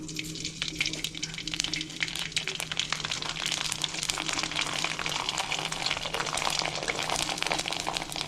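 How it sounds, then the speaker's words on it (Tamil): Sago papad frying in well-heated oil makes a dense, continuous bubbling hiss, loud and close, with a faint low hum beneath and no speech. "இப்போ வத்தல் போட்டு பொறிச்சி எடுக்கலாம்"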